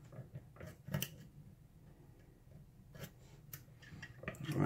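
Faint, sparse metallic ticks and clicks of pins being set inside a Dirty Dexter lock during picking, irregularly spaced and close, with light scraping of the tools.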